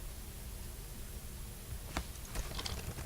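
In the video game Emily is Away, quick keyboard clicks tap out over a steady hiss, clustering in a short burst near the end.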